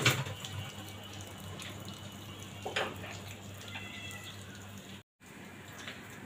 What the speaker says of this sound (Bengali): বাইরে বৃষ্টিও পড়তেছে